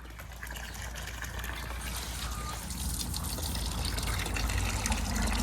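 Water pours steadily into a container at home, a loud, close, continuous gushing and trickling that fills the whole stretch with no pause.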